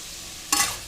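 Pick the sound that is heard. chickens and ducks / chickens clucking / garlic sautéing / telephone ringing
garlic sautéing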